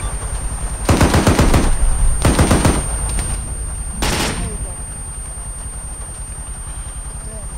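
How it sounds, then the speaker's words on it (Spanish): A Humvee's machine gun firing in the video game ArmA 3, three rapid bursts spaced a second or two apart over low ambient noise, with someone talking. "detrás del Humvee que está disparando ahora"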